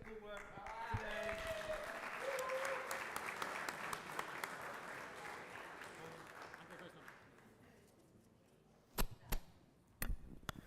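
Audience applause at a Swiss sommelier competition, a broad, sustained clapping that fills the room for several seconds, thins out and fades, followed by a few sharp, close knocks or bumps near the end.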